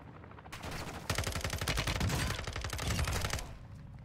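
Modern Warfare 2 video game gunfire crackles in rapid automatic bursts, loud and dense for a few seconds before stopping.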